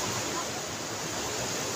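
A river rushes steadily past, a dense unbroken roar of flowing water heard close up and loud, with no pauses or other clear sounds.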